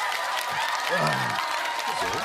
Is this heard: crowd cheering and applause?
yes